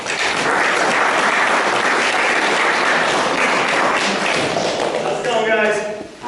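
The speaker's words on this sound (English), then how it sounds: "let's give Jim a round of applause" Loud, dense applause from an audience greeting presenter Jim Park, filling the whole stretch, with a few whoops near the end as it fades.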